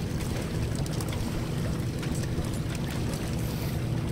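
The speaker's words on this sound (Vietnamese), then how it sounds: "Nước chảy dữ lắm, chảy luôn, mạnh lắm luôn." Strong river current rushing past wooden boats moored near a barge, a steady, dense roar of water that stays close and unbroken throughout.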